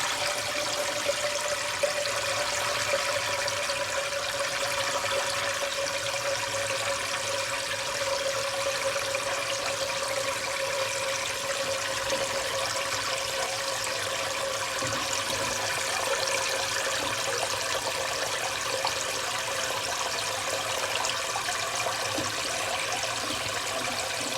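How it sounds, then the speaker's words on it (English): A pot being filled halfway with water from a kitchen tap, a steady continuous rushing flow with a slowly shifting tone, close and unbroken, with no talking. "I'm going to fill this with water, like halfway."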